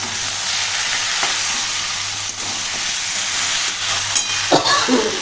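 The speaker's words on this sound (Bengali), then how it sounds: "এবার আমি এটা সামান্য নাড়া দিয়ে নেব।" Spices frying for a vegetarian potato curry sizzle in a pan with Kashmiri chili powder, a steady close hiss with occasional scraping stirs, continuous throughout.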